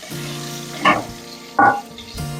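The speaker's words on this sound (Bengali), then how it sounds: "আলুগুলোকেও ভেজে নেব লাল লাল করে" Steamed potato cubes frying in oil, a low steady sizzle broken by two brief louder bursts of crackle or stirring, heard close with no talk.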